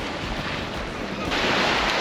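Surf rolls in steadily on a wide sandy beach at Zandvoort on the Dutch coast in mid-April, a continuous broad wash that swells louder partway through, with wind buffeting the microphone.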